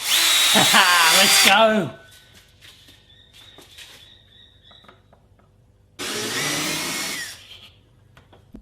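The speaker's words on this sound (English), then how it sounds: "I'm going to drill straight through the side" A power drill with a hole saw bites loudly through the outer plastic case of a homemade Peltier thermal chamber, running in two bursts separated by a quieter pause with clicks and handling, and a brief voice before it starts.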